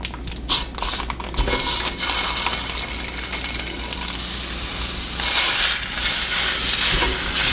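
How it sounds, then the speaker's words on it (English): Pork sausage is broken into small pieces in a hot pan over a little above medium heat on a gas stove, with steady sizzling and frying under scraping and crunching of the utensil, growing louder toward the end. "You just want to break it up into little pieces, just like you're browning a hamburger."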